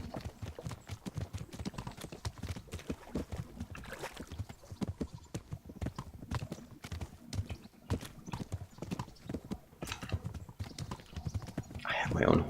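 Horse hooves clip-clopping in the video game Kingdom Come: Deliverance, a steady, fairly close rhythm of hoof strikes running throughout, with someone talking over it.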